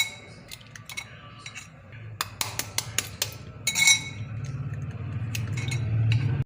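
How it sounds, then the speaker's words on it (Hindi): Eggs cracked into a bowl while making French toast: a series of sharp clicks and taps of shell against the bowl rim, close and moderately loud, over a low steady kitchen hum. "उसमें अंडों को तोड़ लूँगी"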